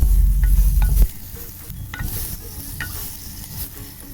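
Boneless chicken cubes fry in a pot for a makhni handi, a loud burst of sizzle as they go in, then lighter crackling with stirring scrapes, close and without talk.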